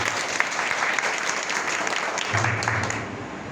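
An audience at a gathering honouring invited guests claps together, a steady, full round of applause that carries on throughout without letting up.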